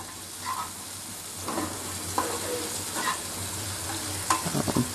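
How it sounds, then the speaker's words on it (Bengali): Chopped onion frying in pan oil left over from frying pointed gourd, a soft steady sizzle with occasional stirring clinks and scrapes, close and moderate in volume, no voices. "এখন পটল ভাজির ওই তেলের মধ্যেই আমরা 1 টেবিল চামচ পরিমাণ পেঁয়াজ ভেজে নিচ্ছি"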